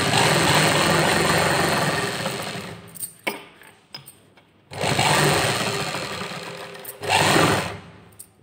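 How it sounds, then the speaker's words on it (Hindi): A sewing machine runs close up, stitching a blouse in steady rapid bursts, running continuously for about three seconds, pausing briefly with a few clicks, then running again. "अब हम यहाँ से एक ऊपर की सिलाई दे लेंगे।"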